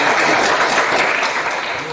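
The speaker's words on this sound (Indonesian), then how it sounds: "tepuk tangan untuk kelompok" A classroom audience claps for a student group after its presentation, a brief, dense burst of applause that stays even and fairly loud throughout.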